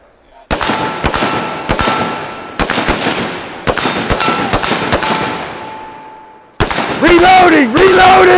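Rifle fire on a range during a moving shooting drill: a run of loud, sharp individual shots at irregular intervals, close and echoing, with shouting near the end.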